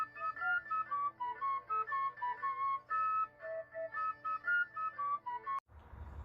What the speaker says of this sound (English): I played it on this C penny whistle